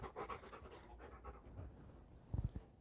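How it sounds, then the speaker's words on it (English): A dog pants softly and rhythmically nearby, ending in a few louder, sharper breaths or sniffs, with no talking. "oh, there's my dog just come in"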